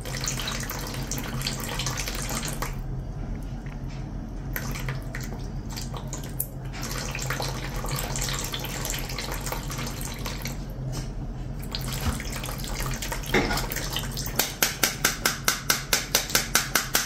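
Water fills the filter housing of an LG Plus++ water purifier, a continuous close rushing and gurgling stream, with rapid rhythmic clicking or tapping pulses toward the end.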